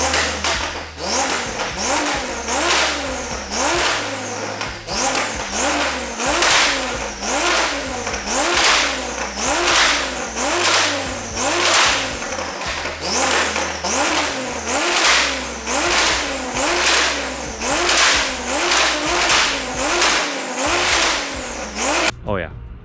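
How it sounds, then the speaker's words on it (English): A Lamborghini engine revs again and again at night, close and loud, in steady rhythmic bursts that rise and fall about every second across the whole stretch. "Sam, insert nighttime revving now."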